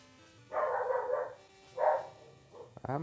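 A restless dog barks in a few short, moderately loud bursts, with pauses between them and a faint squeak at the end.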